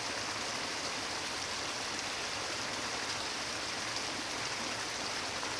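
Waterfall in snowy conditions, a steady broadband rush of falling water that stays constant and fairly loud throughout, with no voices.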